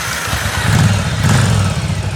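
A 1982 Yamaha Virago 920 cc V-twin motorcycle engine catches and settles into a loud, close, lumpy idle with an uneven pulsing beat.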